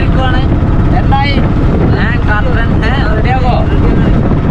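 Strong wind buffets an auto-rickshaw riding along a highway, a loud continuous roar of wind and engine noise close to the microphone, with people talking over it.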